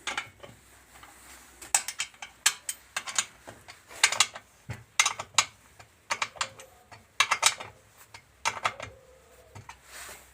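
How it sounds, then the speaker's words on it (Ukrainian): Bolts being tightened crosswise on a freon-water heat exchanger, giving a close series of sharp ratcheting clicks in short irregular bursts with brief pauses between, no talking. "Тепер хрест-нахрест затягуємо, щоб не перекосило прокладку."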